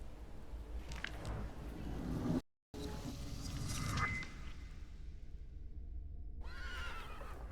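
A horse neighs in The Thaumaturge video game, with a long whinny near the middle and quieter snorts over a low steady rumble.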